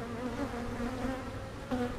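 Honey bees drone steadily around an opened hive during an inspection, a close, continuous buzzing hum with a few swells as bees fly near, no talking.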